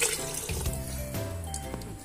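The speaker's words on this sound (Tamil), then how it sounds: "2 கப் தேங்காய் பால், 2 கப் தண்ணி சேர்த்துக்கிறேன்" Coconut milk and water are poured into a cooking pot for vegetable brinji, a steady liquid splash and gurgle filling the pot close up without speech.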